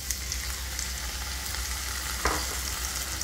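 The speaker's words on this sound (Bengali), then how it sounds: "তেলটা একটু গরম হলে আলুটাকে ভেজে নেব" Potatoes frying in hot oil for a Bengali drumstick-flower poppy-seed dish give a steady, close hiss of sizzling, joined by one brief scrape or stir partway through, with no voices.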